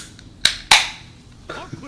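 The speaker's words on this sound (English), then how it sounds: "It's the sound of a delicious beverage." A brief game effect in Gears of War: two sharp, bright transient bursts a quarter second apart, the second louder with a ringing decay, followed by a faint rattling tail, all fairly close with no talk over it.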